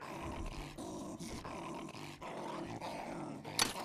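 A dog growls and roars in the combat game Gorn, a steady rough snarling held for several seconds during a fight, ending in a sharp impact burst near the close.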